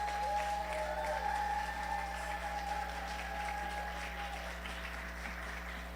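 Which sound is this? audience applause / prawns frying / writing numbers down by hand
audience applause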